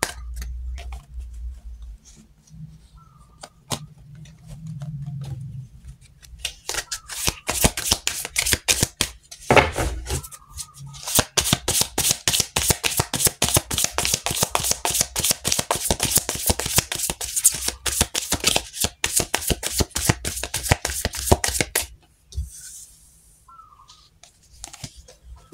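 Tarot cards are shuffled by hand in a long run of rapid riffling and slapping, close and fairly soft, with a few quiet pauses before and after.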